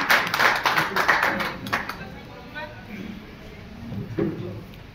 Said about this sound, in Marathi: सर्वांनी या ठिकाणी साहेबांचं स्वागत टाळ्या वाजून करायचंय